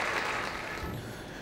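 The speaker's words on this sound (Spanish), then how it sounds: "La afición burgalesista despidió al equipo con aplausos." Burgos football fans applauding their team after a win over Mirandés, a dense, even wash of clapping from a large stadium crowd, steady and fairly loud throughout.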